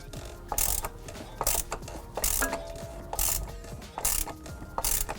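A socket ratchet clicks in quick bursts while snugging the oil filter cap on a Porsche Cayman, several short rhythmic runs of close, crisp pawl ticks with brief pauses.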